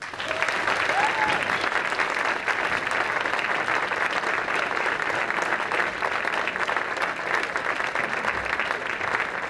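Dense, sustained audience applause welcoming percussionist Rony Barrak, loud and steady throughout with a thick wash of many hands clapping and no talking.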